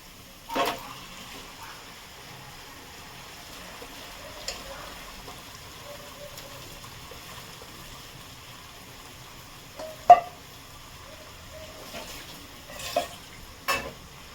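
Marinated chicken frying in a pan over high gas, a faint sizzle beneath a few sharp clinks of a spoon stirring against the pan, spread across the stretch with no talking.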